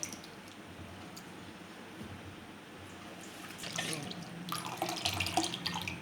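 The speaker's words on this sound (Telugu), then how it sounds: "నీళ్లు బాగా నీళ్ళలాగా కలుపుకోవాలి" Water being stirred into thin rava dosa batter, giving soft wet squishing and sloshing that builds louder toward the end, close by with no talk.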